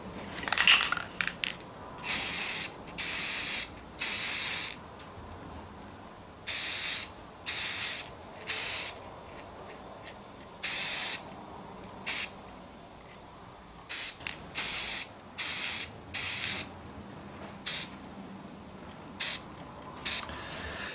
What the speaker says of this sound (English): let's go and spray this Death Star droid black